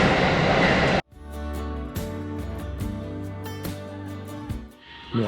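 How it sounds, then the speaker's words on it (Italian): A Kyoto metro train running, a steady loud rumble and hum of the carriage with rhythmic clicks and knocks from the wheels, ending with a brief rising whine; no one talks. "questa è la metro."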